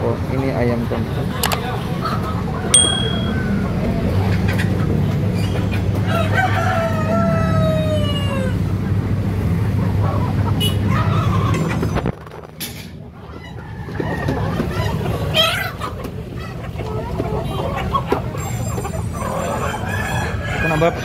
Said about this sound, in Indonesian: Ini ayam kampung.